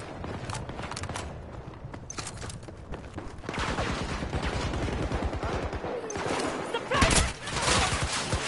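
Gunfire in the video game Battlefield 2042, dense overlapping bursts of shots running throughout, with a louder stretch in the second half and a sharp blast near the end, under occasional voices.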